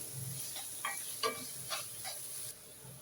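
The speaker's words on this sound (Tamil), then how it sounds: "வெங்காயம் நல்லா வதங்கி வரட்டும்." Onions soft-sizzling as they fry in a pan, with a few light stirring clicks and scrapes, steady and fairly quiet, no voices.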